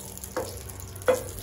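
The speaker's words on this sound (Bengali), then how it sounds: "তেলের মধ্যে একটা তেজপাতা এবং 2টো এলাচ দিয়ে দিলাম।" A bay leaf and two cardamom pods fry in oil left over from frying fish, with a quiet, steady low sizzle and two brief, slightly louder bursts of crackle.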